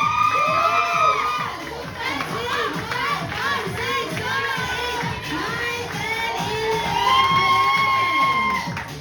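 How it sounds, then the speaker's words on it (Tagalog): Guests at a surprise birthday party cheer loudly for a team, with many excited voices shouting and whooping together in a lively crowd din that lasts throughout. "Okay, nakakuha ko ng 11 ng palakpak."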